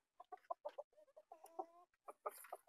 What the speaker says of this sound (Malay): Kita tengok sesi lepaskan ayam